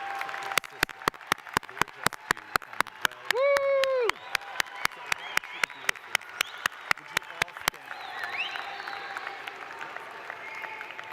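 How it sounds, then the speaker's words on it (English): An audience at a medical school ceremony claps in a sustained round, with a voice speaking over the clapping partway through and regular sharp ticks running across most of it. "I want you to give them a round of applause"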